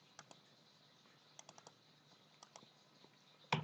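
Light typing on a computer keyboard entering numbers into a spreadsheet, several quiet scattered key taps in small bursts, ending with one louder clack, no voices.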